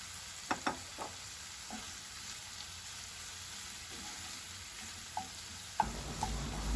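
Yellow bell pepper cooks in a pan while being stirred, a faint continuous sizzle with occasional light clicks of a spoon against the pan and a louder scrape near the end, no voices.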